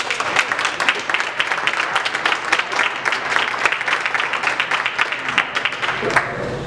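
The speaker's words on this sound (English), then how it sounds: "So let's give each other a round of applause just for being here." A fundraiser audience gives a round of applause, dense, steady clapping from many hands filling the room throughout, fading slightly near the end with no talk over it.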